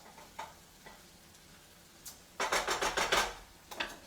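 Tomatoes cook down in a pan with a soft, steady sizzle, broken by a louder burst of crackling and scraping near the middle and another brief flare at the end.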